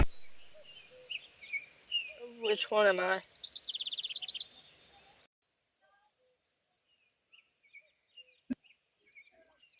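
A loud bird chirps in a video game, with a bright, rapid run of trilling calls followed by sparse, faint chirps and a sharp click. A voice speaks briefly near the start.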